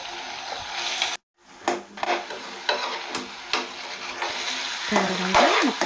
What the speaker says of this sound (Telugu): కూర పట్టే వరకు మిక్స్ చేసుకోవాలండి